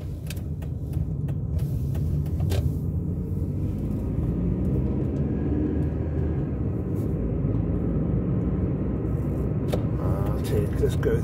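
A car drives along a suburban road in a garden village area of Cape Town, its engine and tyre rumble steady and close throughout, with scattered ticks and knocks on top.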